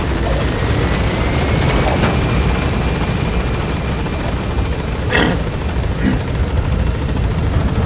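A helicopter in the video game Metal Gear Solid V climbs in altitude, its rotor drone loud and steady throughout, with a few faint thuds in the background.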